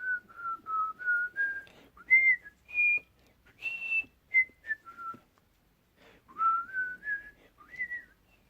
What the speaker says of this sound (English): It will all just be whistling. Bad whistling.